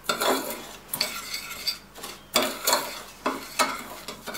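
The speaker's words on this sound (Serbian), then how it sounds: "To se promiješamo." Sugar and water being stirred in a small pot for syrup, heard as a series of close scraping, clinking strokes of a utensil against the metal, alone with no talk.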